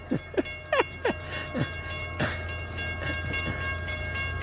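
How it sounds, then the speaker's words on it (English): A Florida East Coast Railway train rolls past close by a railroad crossing with a sharp, rhythmic clatter of wheels over the tracks while a sustained crossing warning tone rings steadily. "I'm gonna turn and film the train going through the crossing."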